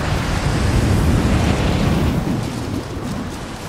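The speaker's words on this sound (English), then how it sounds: "This wind is crazy." Strong, gusting mountain wind roars near a summit in Rise of the Tomb Raider, a loud, steady broadband rush that eases slightly toward the end, with no voices.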